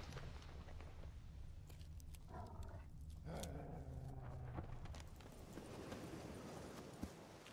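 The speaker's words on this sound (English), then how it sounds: "Cool hearing those dogs." Dogs bark in The Witcher video game, a few short barks in the middle over a steady ambient background of clopping hooves and low rumble.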